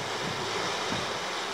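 Wind and lapping waves on Lake Näsijärvi in Finland, heard from a packraft as a steady broadband rush with soft low surges of water, continuous and fairly close throughout.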